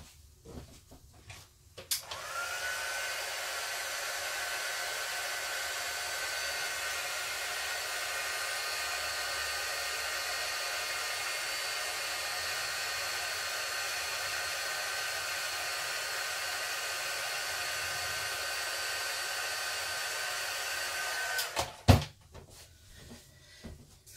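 A heat gun blows a steady, loud whirring hiss for about twenty seconds while embossing powder is melted on a handmade card. A click and some handling noises come before it switches on and after it shuts off.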